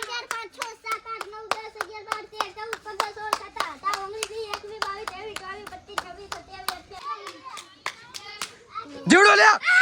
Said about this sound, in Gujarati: તાળી દેજો